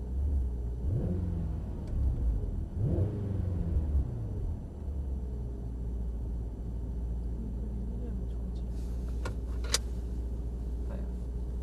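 A Mercedes-AMG E63 S Estate engine rumbles deep and close, swelling with a couple of short revs early on before settling into a steady low idle.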